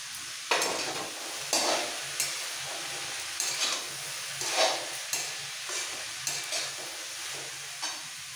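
Chopped vegetables with tomato and capsicum frying for street-style pav bhaji, a steady sizzle broken by regular scraping stirs of a spatula every second or so, close and moderately loud.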